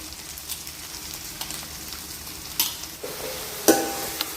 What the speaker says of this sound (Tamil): தயிரும் இஞ்சி பூண்டு பேஸ்ட்டும் இப்போ நம்ம சேர்த்ததுக்கப்புறம் பாருங்கள் நல்லா இப்போ வந்து வதங்கிட்டு இருக்கு